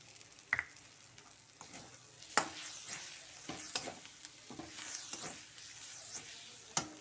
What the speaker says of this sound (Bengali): মিক্স করে ভালো করে মশলাটাকে কষাতে হবে।